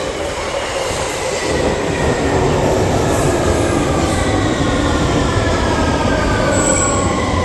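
A train in London rumbles past close by, loud and continuous, with rattling wheels and a thin metallic squeal over the steady roar.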